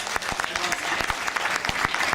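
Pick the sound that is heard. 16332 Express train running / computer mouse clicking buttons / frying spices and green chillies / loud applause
loud applause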